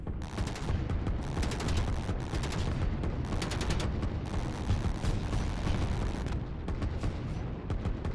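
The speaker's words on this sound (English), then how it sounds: "a tank trying to move through the mountains really slowly and is getting attacked by these artillery" Artillery pounds a tank crawling slowly through mountains in the Line War strategy game, a continuous, loud barrage of overlapping blasts and rattling fire with no pauses.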